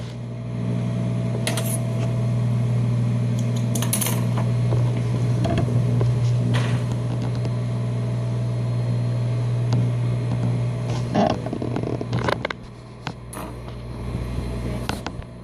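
An industrial sewing machine topstitching a curve, a steady mechanical hum with rapid rattling needle action running continuously up close, ending with a few clicks and knocks as it slows.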